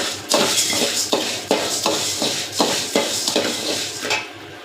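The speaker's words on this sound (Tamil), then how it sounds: "மல்லி சூடாக வரைக்கும் அந்த மஞ்சக்கட்டையும் சூடாகட்டுங்க அப்படியே போட்டு வறுப்போம்" Coriander seeds and turmeric sticks being dry roasted and stirred in a pan, with a steady run of rattling, scraping strokes at an even rhythm, loud and close, no talking.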